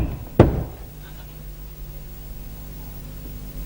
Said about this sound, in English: Sarah, open this door before I break it down!